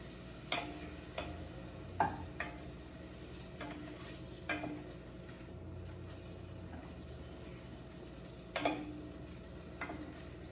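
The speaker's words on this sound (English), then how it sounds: "now we're gonna cook these shrimps till they're nice and pink" Shrimp cooking in a pan for okra soup: a quiet, steady sizzle broken by occasional spoon stirs and light knocks against the pan, close and faint, with no voices.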